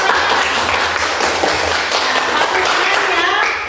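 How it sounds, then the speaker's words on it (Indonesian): A school class claps together for a group's presentation, a steady dense patter of many hands with faint voices underneath. "Ya, beri tepuk tangan."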